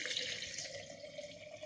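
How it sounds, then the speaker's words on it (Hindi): Water is poured into a bottle of spiced carrot pickle, making a steady, faint gurgling splash with no voices. "अब साथ में पानी डाल देंगे"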